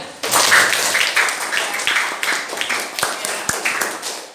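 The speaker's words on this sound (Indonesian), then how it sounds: "Tepuk tangan untuk temanmu bertiga." Eighth-grade classroom students clap for three classmates, a loose burst of individual claps with distinct sharp hits, thinning toward the end, while voices are heard over it.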